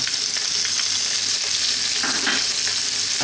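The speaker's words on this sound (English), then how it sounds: "We're heating up some oil in there. I'm using some olive oil for this one." Onion and olives fry in hot olive oil with a steady, even sizzle that stays close and loud throughout, with no voices over it.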